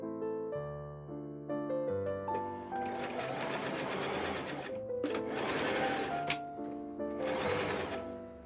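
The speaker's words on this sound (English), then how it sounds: "I machine understitch along the whole hem facing, about 1/4 inch from the edge." A sewing machine understitching along the hem facing of an Italian Renaissance-style dress: a close, steady mechanical whir that runs in three sustained bursts with short pauses, with no talking.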